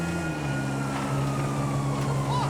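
Police sirens wail behind a fleeing player in GTA 5, a steady wavering tone sustained throughout over continuous vehicle engine rumble, with no talking.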